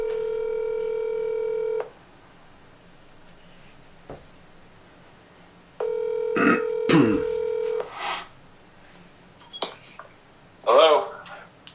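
A phone line rings back with two long steady ringback tones while a call is placed, separated by quiet, followed by short clicks and a person speaking near the end.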